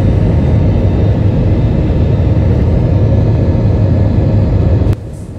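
An Air New Zealand airplane engine drones steadily in flight, a loud, constant low rumble with a hissing wash that cuts off abruptly near the end.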